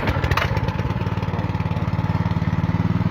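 A small engine is started and settles into a steady, rapidly pulsing putter, running close and fairly loud throughout.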